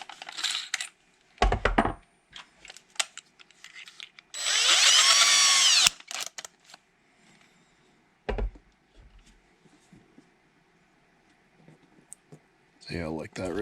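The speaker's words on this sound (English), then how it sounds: "So to drill these screw holes out, looks like a 9/64" A power drill with a 9/64 bit bores screw holes for a DIY kayak trolling-motor battery box, one sustained whirring burst of a couple of seconds between clicks, handling knocks and a person talking.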